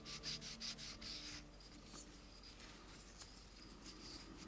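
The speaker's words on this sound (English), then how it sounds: "and just sand that smoother" Sandpaper on a sanding block smoothing a part for an Arii skull head ghost box build: a few quick close rubbing strokes, then quieter continuous scraping, faint overall with no talking.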